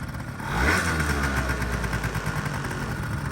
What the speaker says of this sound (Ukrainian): Гарно двигунчик працює, навіть поршнева не звенить